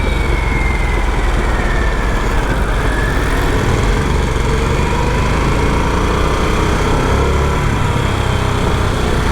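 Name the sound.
Harley-Davidson Sportster S motorcycle engine and exhaust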